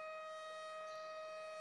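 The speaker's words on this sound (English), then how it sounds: "The sirens are going off." Civil defense sirens sound a tornado warning in Omaha, a steady sustained tone drawn out at moderate distance, ending with a brief loud knock and no talk.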